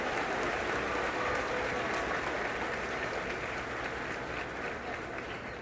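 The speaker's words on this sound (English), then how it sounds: "Let's give Olivia one more round of applause for her accomplishments" Applause for a graduating student at a high school graduation ceremony: a dense, sustained crowd of clapping that holds steady and slowly fades toward the end.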